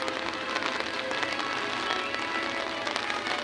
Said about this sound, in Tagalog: Ay, naulan.